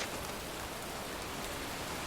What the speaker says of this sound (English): standing in a cemetery, pouring rain